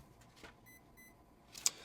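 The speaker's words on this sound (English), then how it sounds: "now we'll let go because it beeped once" The electronic speed controller of an HBX 3100A Violent 1/14 scale RC trophy truck chirps in setup mode, giving a pair of short, faint, high beeps, followed by a brief louder click near the end.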